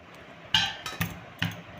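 Hard raw pumpkin being chopped into pieces with a kitchen knife, giving three or four sharp, close knocks of the blade against the board, spaced unevenly with brief quiet between them.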